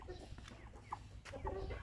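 Chickens kept at a house-building site cluck in short, scattered bursts, faint and fairly close, with a soft low rumble underneath and no talking.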